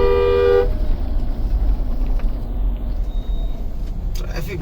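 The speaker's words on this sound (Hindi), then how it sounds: "ट्रैफिक बहुत है इस रोड में भाई," A busy roadside near a temple in the Jim Corbett area, with traffic rumbling past and a sharp car horn toot at the start, followed by steady engine noise and a faint later honk.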